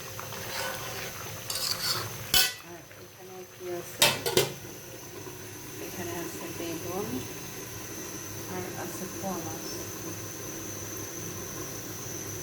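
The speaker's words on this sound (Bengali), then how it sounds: "আমি রান্না করতেছি শালগম আলু" Turnip and potato curry stirred in a pot: scattered metallic scrapes and clinks of a spoon against the pan, a couple of sharp knocks, over a steady hiss of cooking and a speaking voice.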